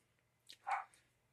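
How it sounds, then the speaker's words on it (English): A single dog bark sounds in the background, faint and brief, against a quiet room with low hum. "Was that our dog barking in the background?"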